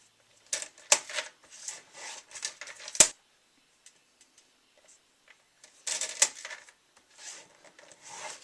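Paper being scored along score lines for a basket, a series of faint scratchy strokes and sharp ticks in short bursts separated by quiet pauses, close up and alone.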